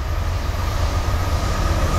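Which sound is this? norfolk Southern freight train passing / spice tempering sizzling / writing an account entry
norfolk Southern freight train passing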